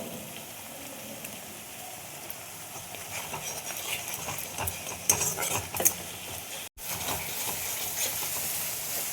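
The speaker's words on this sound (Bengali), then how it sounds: "দেখো আমার মশলাটা কষানো হয়ে গেছে" Masala seasoned with Kashmiri red chilli powder and salt fries in a pan, a steady close sizzle with scattered stirring scrapes and a brief cut near the end.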